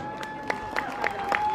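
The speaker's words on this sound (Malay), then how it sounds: "Tepukan gemuruh untuk beliau sekali lagi." Audience at a Pakatan Harapan political rally in Seputeh clapping and cheering, a rippling burst of applause with sharper claps standing out over a steady crowd murmur and a faint sustained tone.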